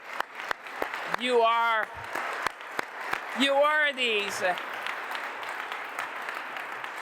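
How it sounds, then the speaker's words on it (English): A speaker's voice comes first, then an audience at a Canadian Space Agency astronaut announcement breaks into applause, a steady wash of clapping that carries on to the end. "let me give you another big round of applause"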